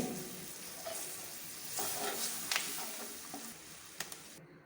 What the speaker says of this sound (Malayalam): കുറച്ച് കറിവേപ്പില കൂടി ഇട്ട് കൊടുക്കട്ടെ